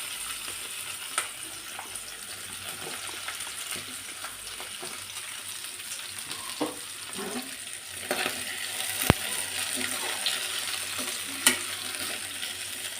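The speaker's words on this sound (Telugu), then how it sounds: "ఇప్పుడు సన్నగా తరిగి పెట్టుకున్న వంకాయలు వేసుకోవాలి" Finely chopped brinjal frying in a pan for a village-style chutney, a steady moderate sizzle with occasional stirring scrapes and a few sharp clicks, heard close without talk.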